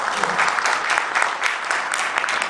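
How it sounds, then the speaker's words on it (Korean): A seated audience at a sales training lecture breaks into brisk, continuous applause, close and fairly loud, with dense overlapping claps and faint voices underneath. "이분에게 박수 한번 보내주시겠습니까?"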